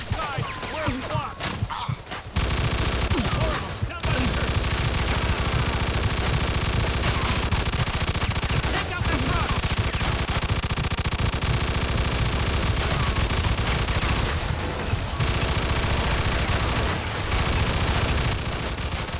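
Gunfire in the video game Mafia 2, dense continuous bursts of shots and blasts under a loud battle din, with someone talking over it.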